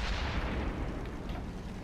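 Deep, rumbling tank cannon fire from World War II–era tanks such as the Soviet T-34 in World of Tanks on PS4, a heavy sustained boom that fills the short stretch at moderate level with no voices.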